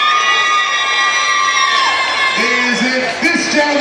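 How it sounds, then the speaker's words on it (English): A crowd at an Oktoberfest beer belly contest cheers and whoops loudly, with shrill shouts and high yells rising over sustained applause and voices throughout. "by applause and cheering, will tell me who our winner is"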